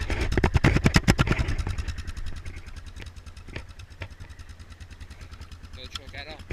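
A 2004 Yamaha Kodiak 450 ATV cranks in a cold start and catches, its single-cylinder engine sputtering loudly at first, then settling into a steady, rhythmic idle close by.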